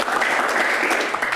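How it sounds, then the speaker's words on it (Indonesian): Applause from a studio audience at a televised Indonesian Q&A discussion on the Constitutional Court, a dense steady clapping that fills the whole short moment at full loudness. "Tepuk tangan"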